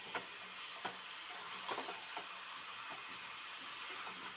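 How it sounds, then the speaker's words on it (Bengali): Chicken pieces for chicken curry fry in a pan, a faint, steady sizzle broken by soft scraping and clicking as the meat is stirred, with no talking. "মাংসটা একটু ভাজা ভাজা হোক"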